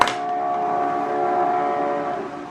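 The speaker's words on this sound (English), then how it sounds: "I don't know if you can hear the fire alarm in the background" A fire alarm in a building gives one continuous, steady electronic tone that holds for a couple of seconds and then fades out slightly, with no voices.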